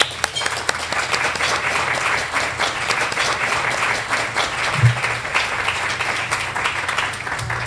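A conference audience breaks into steady, sustained applause welcoming a speaker to the stage, dense clapping filling the room evenly throughout with no talk over it.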